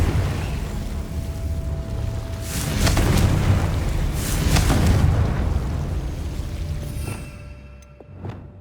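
A Confringo blasting spell in Hogwarts Legacy bursts in a series of loud explosive booms over a rumbling low bed, swelling midway and then fading out at the end, with no voices.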